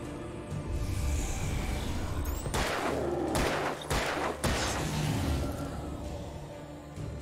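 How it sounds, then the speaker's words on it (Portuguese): Gunfire in a video game, with a few sharp bursts of shots in the middle over a steady, loud game backdrop. "Só acho que eu errei todos os tiros"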